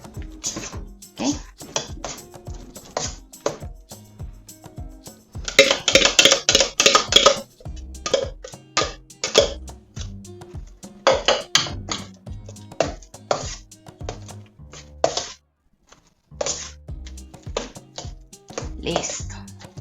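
Rice pudding being stirred briskly with egg yolks in a pot, giving quick clattering scrapes and taps of a spoon against the pot in bursts, with pauses and a person talking in between.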